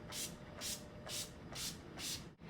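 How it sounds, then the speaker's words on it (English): Five quick hissing bursts of Urban Decay All Nighter setting spray are pumped from the bottle at a steady rhythm, each a short airy mist sound close to the microphone, with no talk. "I'm going to take the Urban Decay Setting Spray, an all-nighter"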